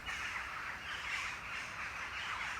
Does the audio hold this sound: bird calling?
yes